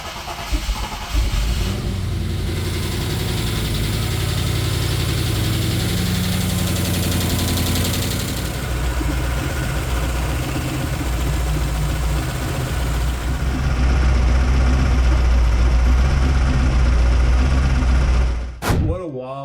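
A V8-swapped Mazda MX-5 idling with a steady, deep engine rumble, with audible lifter ticking, holding nearly constant for the whole stretch before a brief change at the end as it shuts off.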